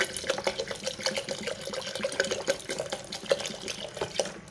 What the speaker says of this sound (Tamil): இப்போ இதில் கொஞ்சம் தண்ணி விடணும்.